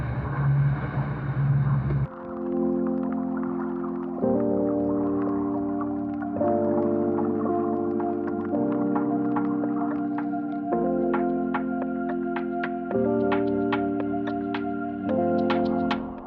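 A small motorboat engine off Koh Chang, Thailand drones steadily, its pitch stepping up and down every couple of seconds as the throttle changes, with wind and water noise around it.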